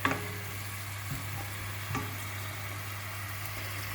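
Chopped onions sauté in extra virgin olive oil with a steady, even sizzle and a couple of soft stirring scrapes near the start, close and moderately loud, with no talking.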